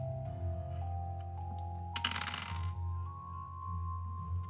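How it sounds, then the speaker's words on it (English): Dice during a tabletop role-playing game clattering and rolling on a hard surface, a brief cluster of rattling clicks at mid-clip over a low steady hum. "I hear a lot of dice."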